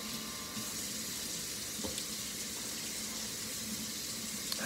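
Harpoon IPA beer pouring from a canned draft home tap system, a steady fizzing, bubbling liquid hiss close by that runs unbroken and alone.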